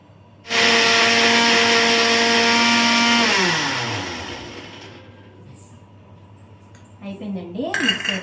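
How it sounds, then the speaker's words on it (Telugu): A kitchen mixer grinder whirs loudly with a steady high motor whine as it grinds almonds and rice for a face pack, running for about three seconds before spinning down into quieter clatter and room noise. "ఇప్పుడు ఈ బాదం పప్పులు, ఈ రైస్ 2 కూడా మిక్సీలో వేసేసుకోవాలి."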